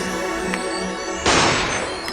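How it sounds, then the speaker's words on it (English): A gunshot in the video game Ace Attorney: Apollo Justice cuts in as a sudden loud burst that lingers as a noisy crash over steady game music. "Gunshot."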